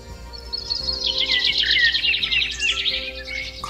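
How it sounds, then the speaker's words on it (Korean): Birds chirp and sing continuously in a forest setting, a bright, busy chorus of high twittering calls that grows stronger midway, fairly close, with no talk over it. "갑자기 새소리가 커졌는데?"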